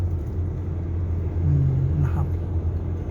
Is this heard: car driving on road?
yes